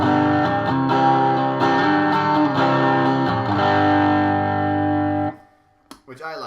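Electric guitar played through a Roland Jazz Chorus JC-40 amp with its built-in distortion, sustained gritty chords ringing loudly for several seconds before cutting off, followed by brief handling noise.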